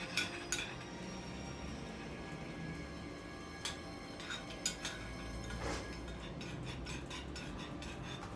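A small spoon stirs gravy in a pan, giving faint, scattered clinks and scrapes against the metal over a soft, steady background hum.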